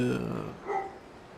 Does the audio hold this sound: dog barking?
yes